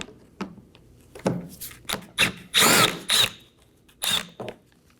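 A power drill backs out a 7mm screw beneath the bumper of a 2018-2024 Chevrolet Equinox, sounding in short whirring bursts of rising pitch, close and loud, with quiet pauses between pulls of the trigger.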